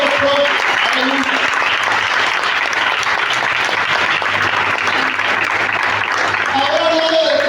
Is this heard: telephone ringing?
no